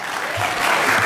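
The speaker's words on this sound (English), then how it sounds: "there's no clapping and no yelling." Audience applause fills a city planning and zoning meeting room in Boca Raton, a steady wash of clapping from many hands lasting about a second, loud and continuous.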